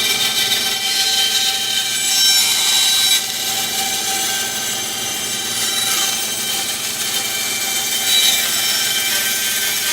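A hand saw cuts through wood with a steady rasping scrape, its strokes blurring into a continuous close, loud grind, with no voices.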